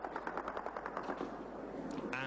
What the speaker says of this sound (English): Dawn in Aleppo brings the clatter of gunfire above.